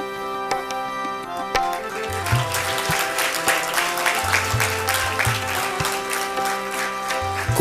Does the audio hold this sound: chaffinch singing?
no